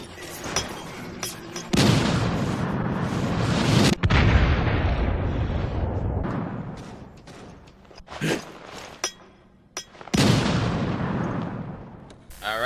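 Hand grenade blasts in the Resident Evil: Revelations video game: several loud, booming explosions with broadband rumble, the biggest around four seconds in, followed by decaying roars and sharper bursts, with no talking.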